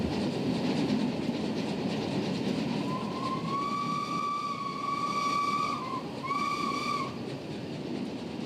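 An old train on the Douro Valley line in Portugal rumbles and clatters along as a steam whistle sounds twice, a long blast and then a shorter one, over a steady rolling noise.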